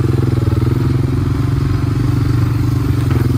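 A four-wheeler ATV engine idles close by on a beef cattle farm. It gives a steady throbbing putter with a rapid, even rhythm and no talking over it.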